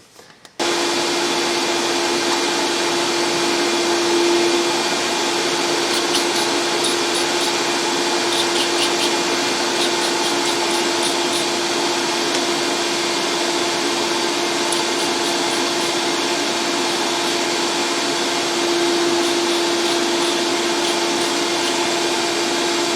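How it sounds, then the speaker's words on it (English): A vacuum starts abruptly and runs with a steady, loud whine and whoosh for the whole stretch, with faint clicking in the background. "We can hook the vacuum up"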